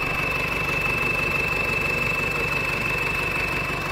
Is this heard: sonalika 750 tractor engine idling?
yes